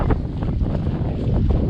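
Strong wind buffets the microphone at a quiet waterside spot near Kanchipuram, a loud, continuous low roar with gusty rumble throughout and no voices.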